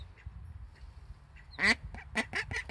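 A broody duck named Waddles quacks in complaint after getting off her nest, giving a burst of several loud, close, raspy quacks in quick succession over quiet background.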